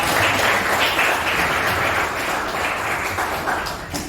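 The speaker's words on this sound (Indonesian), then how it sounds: "Tepuk tangan." Steady applause from a seated audience at an academic coaching session, dense clapping holding at an even level for several seconds and tapering slightly at the end, with no voices over it.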